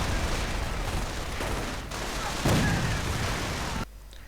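Repeated explosions and mortar fire in a World War II strategy game battle, a dense rumble of blasts with a heavier boom near the middle before it cuts to quieter ambience, with a commentator talking over it.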